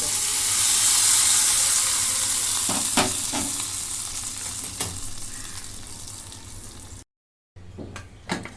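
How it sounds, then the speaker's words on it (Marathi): A loud hot sizzle bursts up as hot tempering oil is poured over idli batter with dal, then slowly settles into a steady, fading crackle, with a few clinks near the end. "आता ही फोडणी ओतून घेते"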